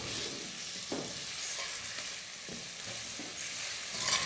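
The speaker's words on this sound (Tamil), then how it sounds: "எல்லா மசாலாவையும் சேர்த்து 1 நிமிஷம் நல்லா வதக்கணும்" Spice masala sautéing in a pan for a tamarind curry with elephant foot yam, a steady soft sizzle with occasional scraping stirs, close and alone.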